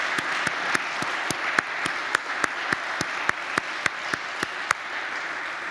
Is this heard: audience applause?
yes